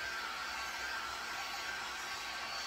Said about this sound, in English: So this little blow dryer is kind of good.